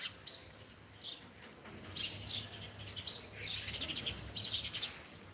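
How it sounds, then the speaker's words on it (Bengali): Sparrows chirping in the morning near a bus terminal in Sylhet, several short bright tweets scattered across a few seconds at moderate distance over quiet background. "সকালবেলায় পাখির কেঁচড়মেচের শব্দ অনেক ভালো লাগে, চড়ুই পাখিগুলো বেশি দেখা যাচ্ছে"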